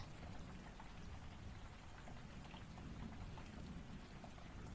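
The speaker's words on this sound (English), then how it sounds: "It's raining really hard." Heavy rain pours down steadily, a dense, continuous wash of drops hitting surfaces with a low rumble underneath, constant and close with no voices.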